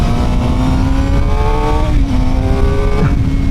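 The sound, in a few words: Suzuki GSX-R 750 motorcycle engine howl while riding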